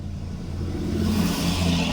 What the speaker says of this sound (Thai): ฟังเสียงรถดันเขาครับผม